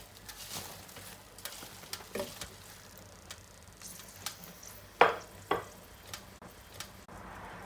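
Corn frying in hot ghee for crispy corn, a soft continuous sizzle with scattered clinks and scraping knocks of a utensil against the pan, a few sharper hits in the middle, no talking.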